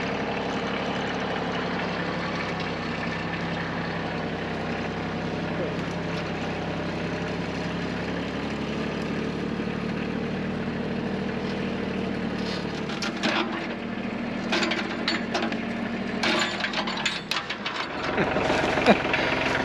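Farm tractor engine labouring steadily while dragging a 55-foot log through woodland, a continuous low rumble with no talk, growing rougher and louder with clunks and revving near the end.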